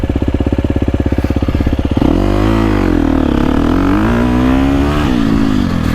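A Husqvarna FC350 dirt bike engine idles with a fast, even thump, then revs up loudly and holds a high, wavering pitch with a few blips, close and alone.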